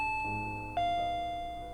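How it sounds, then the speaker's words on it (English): A two-tone ding-dong doorbell chime from the video game Higurashi When They Cry, clear and alone, the second tone ringing out and decaying slowly. "Just then we heard the chime go ding dong."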